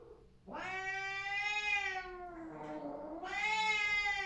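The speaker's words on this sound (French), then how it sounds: "Miaou, miaou." A cat gives two long, drawn-out yowling meows close by, loud and wavering, with a short break between them.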